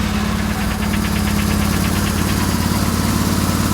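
A motorcycle engine idles on jump-starter power in a loud, close, steady mechanical drone with a fast, even pulsing throb throughout.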